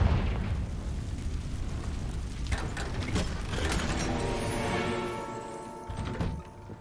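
Confringo explosion spell in Hogwarts Legacy, a loud booming blast with rumbling crackle and mechanical clatter that slowly fades, followed by a lingering ringing tone.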